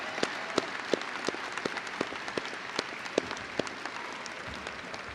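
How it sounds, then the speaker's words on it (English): Sparse, scattered clapping from a graduation audience at a university commencement for doctoral and master's students, soft and somewhat distant, individual claps standing out rather than a full roar. "would you please give a giant round of applause to all the people who have helped you along the way"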